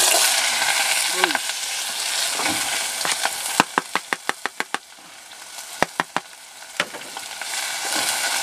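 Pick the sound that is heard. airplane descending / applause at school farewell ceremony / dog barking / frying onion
frying onion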